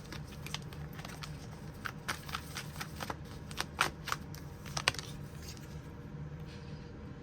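Tarot cards being shuffled, a run of soft papery riffles and light taps with a few sharper flicks, close by and fairly quiet over low room noise, with no talking.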